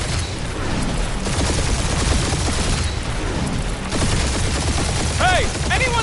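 Spaceship turrets fire continuously during a dogfight in the Guardians of the Galaxy video game, dense crackling bursts and booms filling the whole stretch, with short descending laser-like zips near the end.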